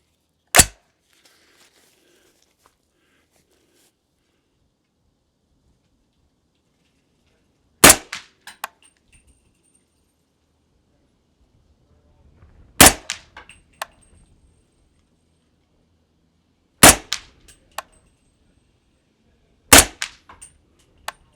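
Five sharp suppressed rifle shots from an AR15 in 300 Blackout firing 200-grain Hornady ELD-X rounds, spaced several seconds apart outdoors, each followed by faint clanks of steel targets.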